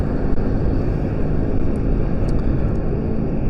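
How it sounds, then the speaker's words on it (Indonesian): An old Yamaha Jupiter MX motorcycle runs steadily on a night ride along the Ciawi–Benda road, giving a close, continuous low rumble mixed with wind buffeting and no voices. "Kebetulan gua ini pakai motor Jupiter MX ya."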